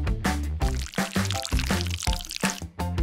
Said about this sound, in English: I'll pour paint under this blade.